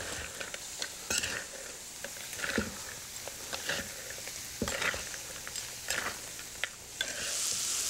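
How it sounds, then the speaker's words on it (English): Food being tossed in a pan after a squeeze of fresh lemon juice, in a panzanella dish alongside veal, with steady close sizzling broken by repeated stirring scrapes and clinks, no talk. "just a kiss of fresh lemon juice. We're gonna give these a quick toss."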